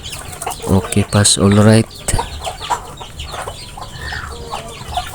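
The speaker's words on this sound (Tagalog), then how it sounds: "Madami na palang mga manok namin" A backyard flock of chickens in a rural yard clucks nearby in short bursts, with someone speaking briefly among the calls.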